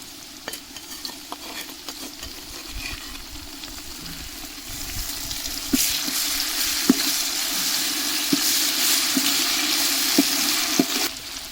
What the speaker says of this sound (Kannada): ಶುಂಠಿ ಬೆಳ್ಳುಳ್ಳಿ ಪೇಸ್ಟ್ ಹಾಕ್ಕೊಳ್ತಾ ಇದ್ದೀವಿ, ಒಂದು 80 ಗ್ರಾಮು.